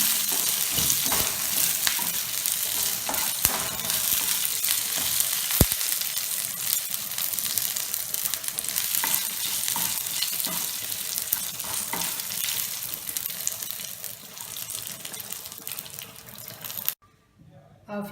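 Garlic fries in a pan of coconut fish curry over a low flame, giving a steady close sizzle with bursts of stirring and spattering. It runs almost unbroken and drops off sharply right at the end.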